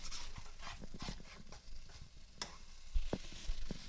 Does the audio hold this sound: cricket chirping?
no